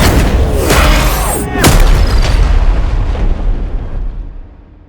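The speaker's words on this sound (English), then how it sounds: "Number 3. Whoosh Hit." A whoosh hit sound effect delivers loud, sweeping whooshes that crash into a heavy, booming impact. A long rumbling tail then fades out over several seconds, with no voices present.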